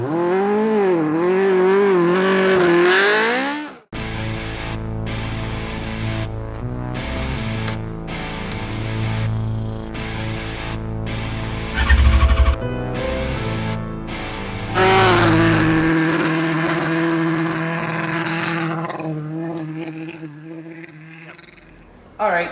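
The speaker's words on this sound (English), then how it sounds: "On this episode, we're running the smart car again." A modified Smart car with a welded differential skids through winter conditions, its small engine revving hard in rising and falling bursts with tire scrub, loud and close, continuing for a long stretch with only brief pauses.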